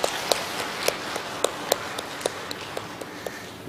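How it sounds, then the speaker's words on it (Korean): Church congregation gives a short round of applause, heard as sparse, distinct individual claps spread evenly over a few seconds, moderately distant and fairly soft in a reverberant hall. "그러면 우리 지역장님 축하 박수 한번 보내드릴까요?"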